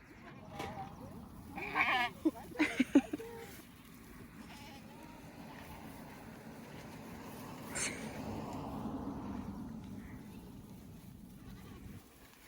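Goats on a farm bleat several times, close and loud, in a short cluster early on, followed by softer calls and scattered bleats over low rustling and shuffling.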